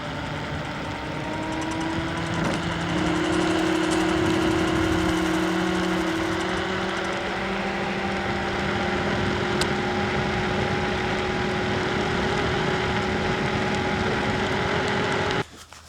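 Off-road tires on an AUSOM L1 electric scooter rolling over asphalt, a steady droning hum with a rising and falling tonal whine, loud and continuous throughout with wind noise and no talk.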